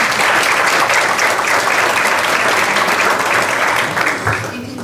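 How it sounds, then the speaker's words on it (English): Parents in the audience at a high school academic excellence banquet give loud, sustained applause that fills the room, then tapers slightly toward the end. "I'd like to take a second to thank you, the parents, by giving a round of applause"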